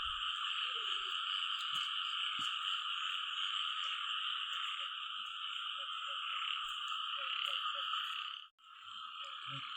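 Frogs croaking at night during a frog-catching outing, a dense and constant chorus with a high buzzing wash running throughout and a few scattered closer croaks popping out, with no talk.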